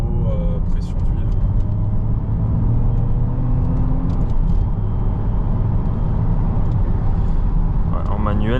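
Opel Insignia Sport Tourer OPC with a 2.8L V6 cruising in third gear, a loud steady low engine and road rumble from inside the cabin, with people talking over it throughout.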